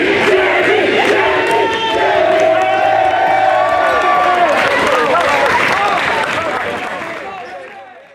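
A crowd at a high school basketball game cheers and applauds a player, a loud sustained roar with shouting that fades toward the end.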